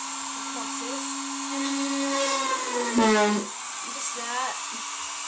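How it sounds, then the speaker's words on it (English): A small electric drill whines steadily while boring holes in a dollhouse for lights, its pitch dipping briefly under load, with a voice speaking quietly over it. "I'm going to drill a hole, and all that is where the cross is,"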